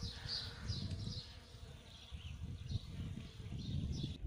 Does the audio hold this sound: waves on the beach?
no